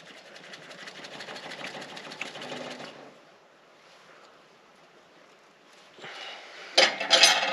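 Diesel engine of a Case IH 9240 tractor with an 8.3 engine, cranked during fuel lift pump and shutoff solenoid work: a steady mechanical whirring for about three seconds, a quieter stretch, then a louder rattling burst near the end.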